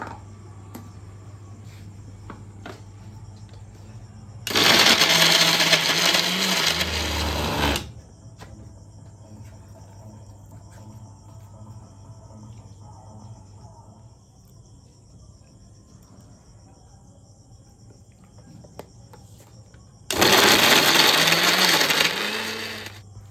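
A blender grinds raw chicken into a thick paste for restaurant-style chicken kebab, two loud roaring bursts of several seconds each separated by a long quiet stretch with a faint background hum.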